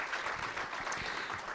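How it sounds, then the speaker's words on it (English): Luncheon guests at a chamber of commerce infrastructure event clap for elected officials, a quiet, diffuse patter of applause heard at a distance. "Please join me in a round of applause for our elected officials."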